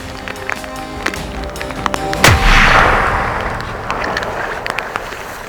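A single sharp rifle shot rings out during a moose hunt, loud and close, then rolls away as a long fading echo across open country.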